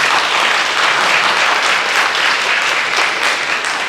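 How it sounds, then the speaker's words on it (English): Audience applause at a forum opening the 2025 urban architecture biennale in Seoul, a dense, loud, sustained clapping from a crowd that carries through unbroken. "So let's give them a round of applause, please."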